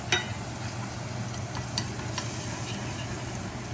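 Garlic fries in a skillet alongside cooking tomatoes, giving a soft, continuous sizzle with faint stirring clicks and light taps, moderately quiet and without talking.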